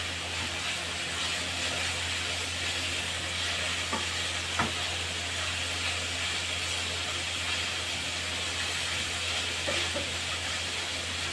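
Shawarma meat frying in a pan gives a steady, close hiss of sizzle that runs the whole time, with a few faint clicks of stirring and turning along the way.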